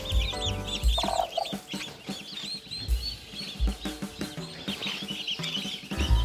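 Chickens and roosters cluck and squawk close by in a busy, overlapping chorus with repeated bursts of clucking and a few louder calls, loud throughout.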